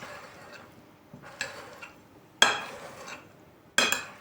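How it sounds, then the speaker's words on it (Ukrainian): Pumpkin filling ingredients are stirred in a bowl, with a spoon clinking and scraping against the sides in irregular strokes and three sharper knocks, close up and with no talk. "І тепер треба нам все гарно перемішати."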